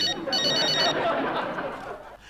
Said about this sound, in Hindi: ये तो फोन की घंटी, दरवाजे की घंटी नहीं है।